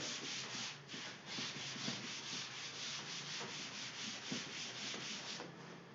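A duster or cloth rubs writing off a classroom board in fast repeated strokes, a steady scratchy swishing up close with no voices.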